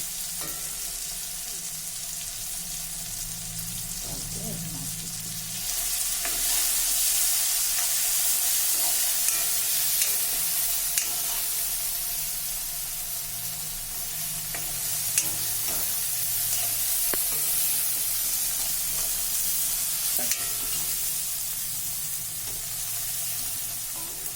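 Cumin powder fries in a pan while preparing vegetarian taro kofta, a steady close hissing sizzle with occasional light stirring clicks, no talk.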